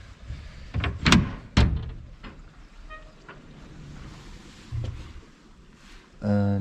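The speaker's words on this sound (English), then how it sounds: "Should I knock the door?" Several loud, close knocks on a door in a cold lodging in Leh, bunched in the first seconds and followed by quieter room noise and a final thump.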